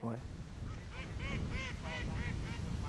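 Ducks on a pond quack repeatedly in a rhythmic series of nasal calls, fairly close, with a brief voice at the very start.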